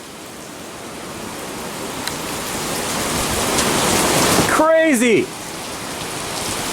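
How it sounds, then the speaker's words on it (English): Heavy pouring rain falls steadily and builds in loudness, a dense wash of drops close by, while a person briefly exclaims over it. "absolutely pouring rain"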